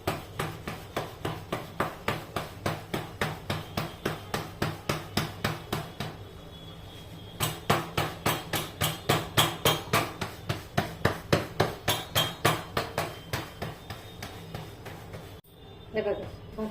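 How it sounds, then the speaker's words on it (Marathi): Millet bhakri dough is hand-patted flat on a flour-dusted surface: a long run of quick, evenly spaced slaps, close and crisp, broken by a short pause before the rhythm resumes. "थोडंसं पीठ टाकायचं खाली आणि थापून घ्यायची"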